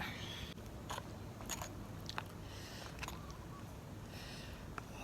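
Crunchy biting and chewing of a spicy, bitter Thai jaew dip, close and quiet, with irregular crisp bites and mouth sounds and no talking.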